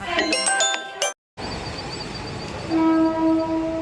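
A train horn or station chime rings out with steady tones, a brief dropout, then a long sustained horn-like tone over background rumble at a station.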